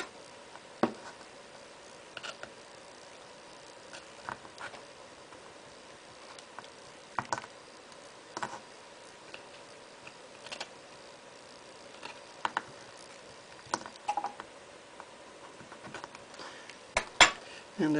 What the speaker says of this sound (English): Trying to scrape off the excess.